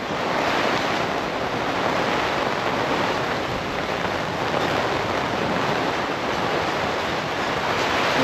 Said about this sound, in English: Here we go, some decent wind.